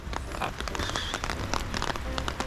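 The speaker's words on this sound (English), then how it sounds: "I just can't spend a lot of time in here when it's raining like this" Heavy rain falling steadily over a garden on a wet Christmas Eve, a dense, continuous hiss of drops with no talking.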